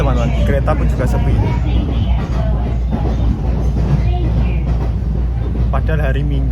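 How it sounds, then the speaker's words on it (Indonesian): A train runs steadily in rural Japan, heard from inside the carriage: a constant low rumble with rattling and clatter, loud and unbroken throughout, with a person talking over it. "Ya teman-teman, kita sudah naik kereta."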